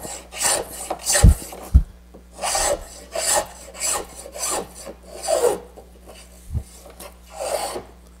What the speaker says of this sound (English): So you hear the difference? I'm taking these heavier shavings.